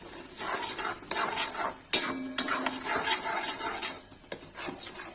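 White cauliflower being roasted in a pan for a Kashmiri gravy, a utensil scraping and stirring steadily with clinks against the metal, close and fairly loud, no voices.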